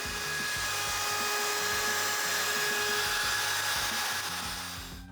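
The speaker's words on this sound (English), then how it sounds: "To do these roundovers, I'll be using the MFK 700 with a 1/4 inch roundover bit." A Festool MFK 700 trim router fitted with a 1/4 inch roundover bit whines steadily and loudly for about five seconds while rounding over the edges of a bedside table, with no talking.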